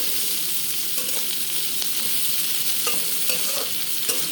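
Potatoes and onions sizzle steadily in a frying pan, a dense continuous hiss with occasional faint clinks of stirring, close and unbroken throughout with no talking.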